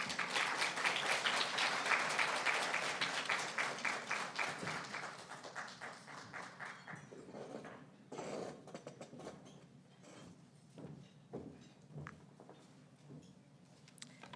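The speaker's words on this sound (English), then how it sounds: "Let's give her a round of applause." An audience at an award ceremony applauds, dense clapping at first that thins out and fades into scattered claps and faint room noise.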